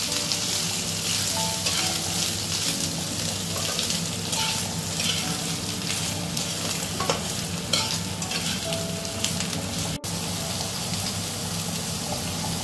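Large-cut pieces of ridge gourd sizzle steadily in hot oil in a pan, a loud continuous frying hiss with occasional stirring scrapes and no talking.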